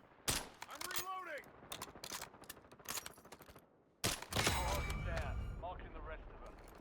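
Gunfire in the Call of Duty Warzone video game on Rebirth Island: a rapid sequence of sharp, loud shots in bursts, then a short pause and a sustained, dense volley, with game effects mixed in.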